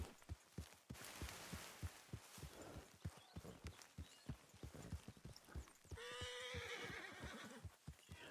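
A Missouri Fox Trotter horse in Red Dead Redemption, agitated, stamps and clops its hooves in a rapid uneven rhythm, then lets out a loud, quavering neigh near the end, all close by with no talk.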